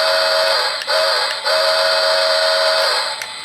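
A shrill, hissing steam-whistle sound effect from a Lionel HO Polar Express Berkshire model locomotive blows in three long toots with short breaks between them, loud and near, with no voices.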